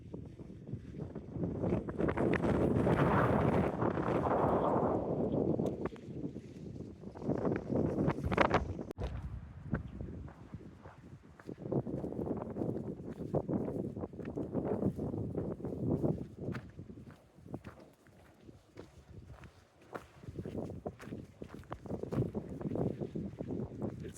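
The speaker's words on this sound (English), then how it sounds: "It's so windy up here." Strong gusting wind roars across the exposed rocky summit of McAfee Knob on the Appalachian Trail, buffeting the microphone in loud rushing surges that rise and fall with brief lulls, with faint movement noises beneath.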